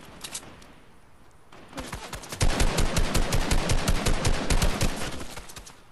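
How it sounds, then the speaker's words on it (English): Gunfire in the video game Fortnite, starting with a few scattered shots and building into a loud, sustained burst of rapid automatic fire that continues to the end, with no voices. "They're shooting."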